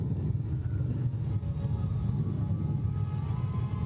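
Motorcycle club bikes roll by in an Independence Day parade, their engines a continuous low rumble close by, with no voices over it.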